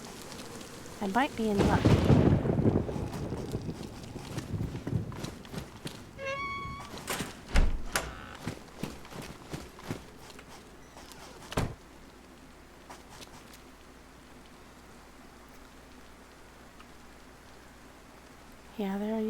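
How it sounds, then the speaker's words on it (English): Rain in DayZ on Deer Isle, a thunderstorm with heavy thunder rumbles and sharp cracks over steady rainfall, the loudest burst early on and fainter strikes later, while someone talks briefly over it. "it started raining"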